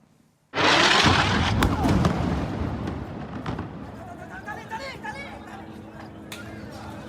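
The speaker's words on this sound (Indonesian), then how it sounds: "Rekaman video menunjukkan momen terjadinya ledakan diikuti oleh kobaran api dan asap tebal yang membumbung tinggi di atas gedung." An Israeli airstrike hits a residential building on Al-Jala Street in central Gaza City at night. A sudden loud blast opens the clip, then rumbles and crackles as it slowly fades, with voices audible in the background.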